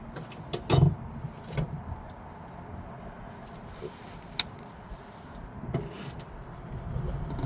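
A HiSun Sector E1 electric utility vehicle with a lithium conversion drives around an office park, giving a low steady hum and rolling rumble with scattered clunks and rattles, close and without talk.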